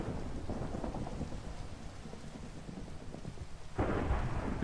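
Steady rain in Minecraft during a UHC match, a dense close hiss with a low rumble beneath and a sharper burst of downpour near the end, no voices.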